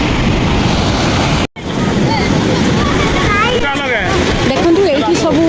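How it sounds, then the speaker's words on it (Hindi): Sea waves wash and break on Gopalpur beach in a continuous roar, with a voice talking over the surf. "देखु पानी केमती लहड़ी भांगुची।"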